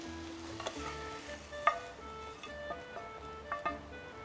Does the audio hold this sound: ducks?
no